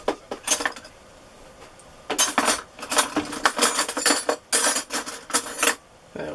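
A spoon scrapes and taps against a container while scooping dairy-free cream cheese for mashed potatoes, a few clustered clinks and scrapes in bursts with short pauses between, close and clear with no talking.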